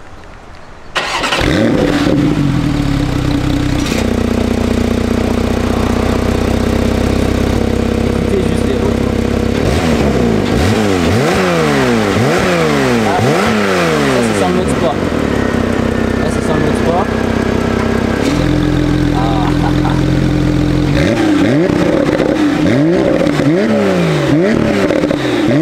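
A Porsche 991.2 Carrera 4 GTS Cabriolet fires up with a loud, close bark and settles into a rumbling idle. Two bursts of rapid throttle blips follow, each sharply rising and falling, with the idle settling back in between.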